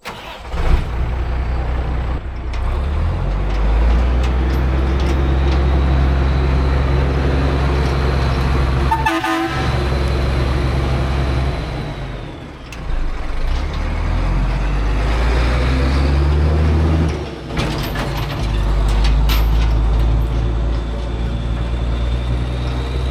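An old GMC truck loaded with junk drives along, its engine droning loudly and steadily close by, with gear shifts, brief pauses in engine load and a few clanks over roughly twenty seconds.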